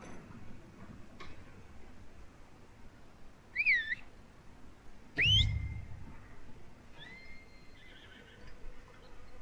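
In Red Dead Redemption 2, a horse whinnies twice in quick succession, fairly faint, with a quieter neigh afterward over soft background noise; no talking.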